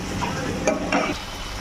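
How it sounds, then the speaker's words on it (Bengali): Egg paneer curry masala with cashew sautés on low heat, giving a soft steady sizzle with a few light scrapes and stirring clinks from a pan, close and continuous, with no voices. "আঁচ কমিয়ে ভালো করে কষে নিতে হবে"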